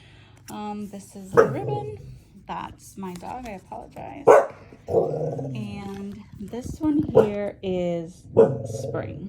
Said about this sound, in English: That's my dog, I apologize.